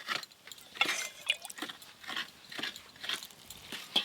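Maida flour dough being kneaded by hand with hot water for luchi: close, wet, squishy squelches and soft slaps come in an uneven rhythm, with no talking.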